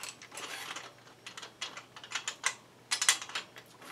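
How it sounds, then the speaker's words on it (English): A bicycle seat tube bolt being loosened with a tool, giving a run of close, dry mechanical clicks and ratcheting ticks that grow louder toward the end. "We'll loosen the C-tube bolt,"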